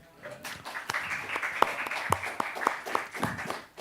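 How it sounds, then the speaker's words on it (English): Scattered applause breaks out in a seminar room for a thesis advisor named Alan, with sharp individual claps rising and thinning over a few seconds at moderate volume. "please clap for Alan"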